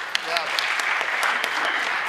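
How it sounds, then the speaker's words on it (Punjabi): Audience applause at a live Punjabi stage comedy drama, a steady wash of clapping lasting about two seconds, fairly loud and close, with crowd voices mixed in. "ਤਾਲੀਆਂ ਵੀ ਹੋਣੀਆਂ ਚਾਹੀਦੀਆਂ"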